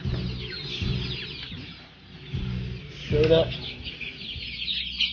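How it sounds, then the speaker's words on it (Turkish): Turkish roosters and chickens clucking and calling in a coop with electric lighting, their low repeated clucks sounding close beside someone talking throughout. "Bakın burada hepsi tek tek ayrı ayrı tavuklarımız,"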